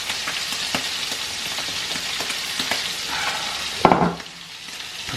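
Shellfish sizzle and spit steadily in a hot frying pan, with a dense crackle and scattered pops throughout, then a brief louder clatter near the end before the frying settles slightly quieter.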